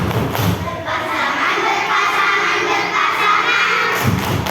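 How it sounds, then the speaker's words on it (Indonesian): A classroom of children does a rhythmic group clap, the tepuk kompak, mixing claps and thuds with shouting and chanting voices, loud and close throughout. "Yuk, tepuk kompak."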